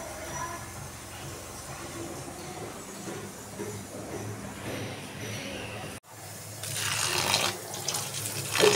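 Tap water running over hands being washed in a kitchen sink, a soft steady splash that grows louder and brighter in the last few seconds after a brief break.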